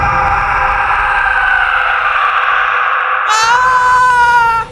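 A man screams loudly in pain after falling face-first onto a large stone in an animated horror story. The cry is a sustained, high, wailing scream that rises in pitch near the end.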